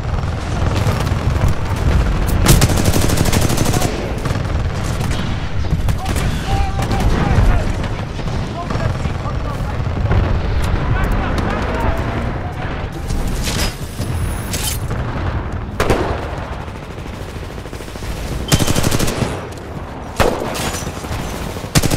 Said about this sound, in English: Splitter rifle armed.